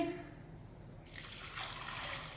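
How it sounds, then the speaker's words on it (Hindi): A glass of water is poured into a kadai holding washed chana dal, a soft steady splashing pour that begins partway through and continues quietly to the end. "चार गिलास पानी डालेंगे।"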